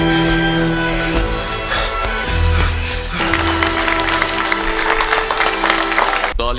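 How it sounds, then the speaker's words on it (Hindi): A crowd applauds in a scene from The Witcher. Scattered clapping grows into dense, sustained applause in the second half over a background of steady tones, with a sharp knock at the end. "तालियों के साथ खत्म करना अच्छा था"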